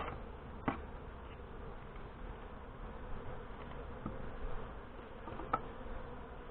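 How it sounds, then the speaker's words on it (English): A close, steady hum of many honey bees fills an opened hive during an inspection, with a couple of sharp clicks from frames or tools breaking the continuous buzz. "A lot of bees on the bottom."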